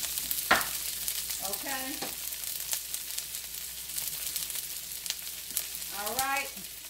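Onion sautéing in a skillet for old-school Southern fried cabbage, a steady soft sizzle with occasional stirring scrapes running throughout, while a person speaks briefly twice over it.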